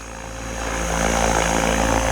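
An OMPHOBBY M5 RC helicopter flies close by, its rotor and motor giving a steady buzzing whine that swells in loudness as it moves, with no voices over it.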